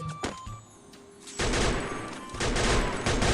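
Free Fire gunfire: a few sharp shots at the start, a quieter lull, then loud sustained bursts of rapid shooting fill the rest.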